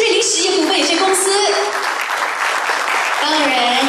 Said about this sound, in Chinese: 来，让我们掌声响起，恭贺我们的深圳市瑞麟实业股份有限公司。